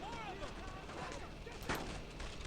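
Gunfire in the Brothers in Arms WWII shooter as a sniper fires, with a sharp crack standing out near the end over a dense, noisy battle bed and someone talking.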